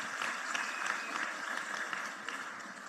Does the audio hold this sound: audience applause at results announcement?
yes